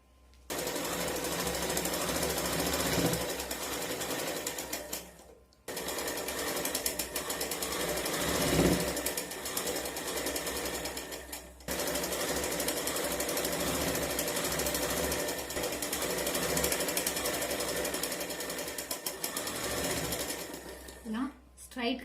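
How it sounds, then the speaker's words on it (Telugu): A sewing machine stitches a straight seam on a Punjabi dress top neck piece. The motor whirs loud and steady, with two brief pauses before it starts again. "ఇలా స్ట్రైట్గా అంతా ఒకే లైన్ లాగా రావాలి మనం స్టిచ్చింగ్ చేసుకున్నది"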